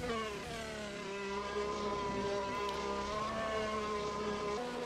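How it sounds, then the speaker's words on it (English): Several race car engines roar at once in a sim racing game at the Spa-Francorchamps circuit, giving a continuous layered drone of harmonics whose pitch shifts slightly as the cars rev, steady and fairly loud without talk. "Hear those engines roar."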